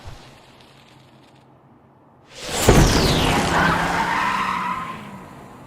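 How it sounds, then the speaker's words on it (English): A car's tire squeal as a sound effect, a sudden loud screech with a whoosh after a quiet ambient opening, sweeping in pitch and holding strong for about three seconds before fading. "I would have liked to have heard the initial car noise and the tire squeal come up a little bit in volume"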